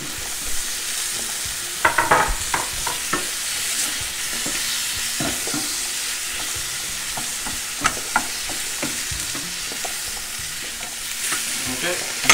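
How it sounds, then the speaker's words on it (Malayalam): Chopped tomato frying with turmeric in a masala base, with a steady close sizzle and scattered clicks and scrapes of a spoon stirring the pan throughout. "ആ ടൊമാറ്റോ ഇട്ട് കൊടുക്കും."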